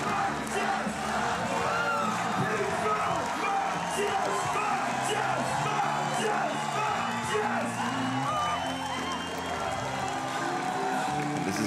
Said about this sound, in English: The crowd reaction, everyone on their feet.